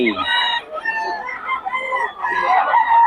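Chickens and roosters at a market in Bocaue, loud close clucking and crowing calls overlapping one another, with some voices in the background.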